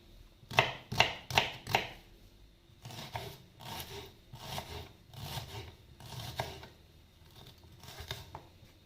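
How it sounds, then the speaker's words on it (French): A knife slicing mushrooms into thin strips on a board, first four quick close cuts, then a steadier series of softer rhythmic strokes, with no talking. "Couper en petites lamelles."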